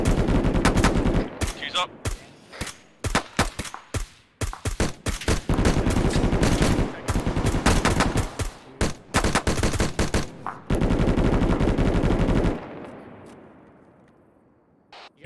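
Several machine guns firing in sustained long bursts on a military operation, loud and close, rapid repeated volleys with short gaps, then a fading echo; a man briefly calls out over the gunfire.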